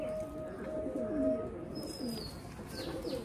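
Old-generation Andhra, Madrasi and Kalanka tournament racing pigeons kept at home, cooing softly with a few low throaty calls over faint background noise, plus a brief high chirp near the end.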